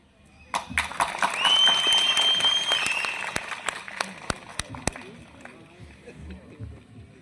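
Audience applause at a festival event, a dense burst of clapping that swells after the first half second, peaks around two seconds and then thins out, with scattered sharp claps and some crowd voices mixed in.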